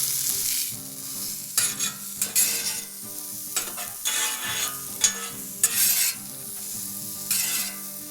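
Onions and mushrooms being tossed and stirred in a hot pan for a mushroom Swiss smashburger, a steady sizzle broken by bursts of scraping and shuffling as the vegetables are turned, close and with no talk.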